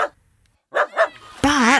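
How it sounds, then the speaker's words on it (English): A barking dog amid farm animal noises, a few short yapping barks close by followed by a longer drawn-out bark, loud and clear with no other sounds between. "All the animals would join in with their mooing and their clucking and their crowing and their grunting and their barking and their meowing"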